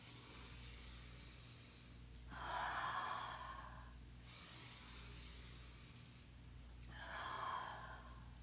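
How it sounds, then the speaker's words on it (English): Slow, quiet breathing during a hatha flow yoga session: long, airy inhales through the nose and soft exhales, two full breath cycles close to the microphone over a low steady hum. "Always we inhale through the nose, and it's your choice if you want to exhale out an open mouth."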